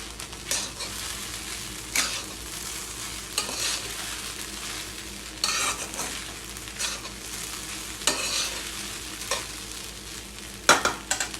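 Sabudana khichdi sizzles in a pan while a spoon stirs and scrapes through it in repeated strokes every second or two, over a steady frying hiss, close and with no talking.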